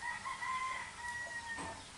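A farmyard rooster crows in a long drawn-out call at moderate distance, with chickens clucking faintly around it in the rural yard where they were just fed, and no talk.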